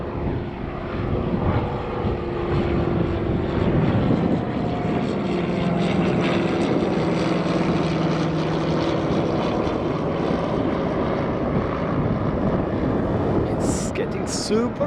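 A propeller airplane drones steadily overhead just after takeoff from Faro Airport, its engine hum constant and fairly loud, mixed with gusty wind noise throughout.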